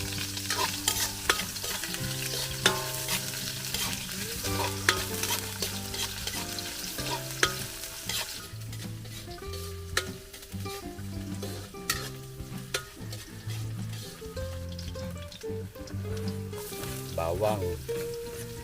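Ginger sautéing in a pan, with a steady sizzle and frequent scraping stirs against the pan, close and continuous throughout.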